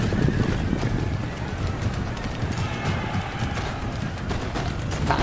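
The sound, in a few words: cavalry horses galloping in Empire: Total War video game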